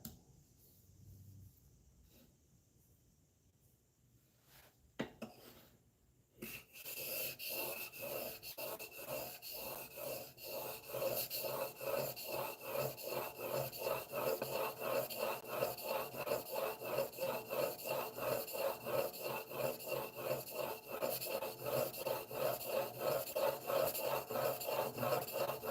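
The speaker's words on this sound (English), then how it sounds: "Again, keep the back of that chisel dead flat. We're going to bump up now to the 3000 grit." A steel chisel back slides back and forth on a 3000 grit sharpening stone, a quiet rhythmic rasping that begins after a few seconds of near silence and then continues evenly.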